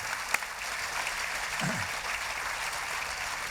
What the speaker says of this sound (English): But you give me a clap